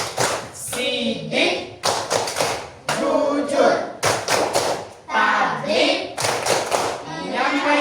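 A group claps hands in a steady rhythmic pattern, sharp bursts repeating in time while voices chant along between and over the claps.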